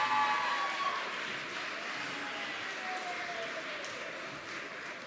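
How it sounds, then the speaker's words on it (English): Audience at a San Antonio youth mayoral candidate forum clapping for the candidates, a dense steady wash of applause that stays fairly even, fading slightly over several seconds. "let's give a round of applause for our mayoral candidates"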